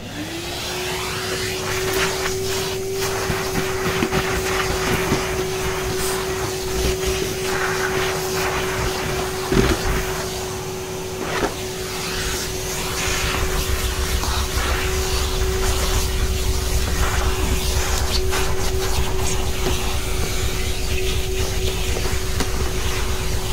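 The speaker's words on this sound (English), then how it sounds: "we're going to give this a bit of a hoover" A vacuum cleaner hoovers out the rear cabin filter of a Mercedes Vito W639 van, a steady loud motor whine running the whole time with brief bumps and knocks partway through and no voices.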